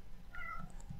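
A cat gives a single faint, short meow at a distance over a steady low background hum.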